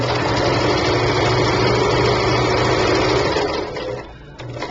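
A sewing machine runs loud and close as it stitches a pillow seam forward, in reverse and forward again, with a continuous buzzing hum that eases and changes near the end.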